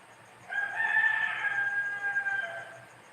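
A rooster crows early in the morning in the Philippines, one long drawn-out call lasting about two seconds, fairly close and clear over a quiet background.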